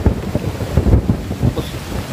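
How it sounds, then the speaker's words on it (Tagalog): Heavy rain pours steadily outdoors during a hunt, with low rumbling thunder rolling through and wind buffeting the microphone; no voices are heard. "Wala na, ang lakas na ng ulan."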